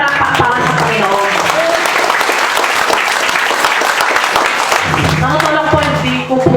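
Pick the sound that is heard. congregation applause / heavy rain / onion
congregation applause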